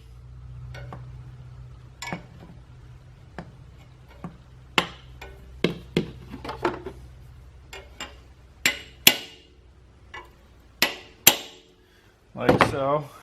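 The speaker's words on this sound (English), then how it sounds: "a brass punch and a hammer, and you're just going to want to tap on the top of this" A hammer taps a brass punch on cylinder head bolts of a VW Jetta TDI ALH engine during head gasket work with ARP studs, giving a series of sharp, irregular metallic knocks, close and clear, with a brief voice near the end.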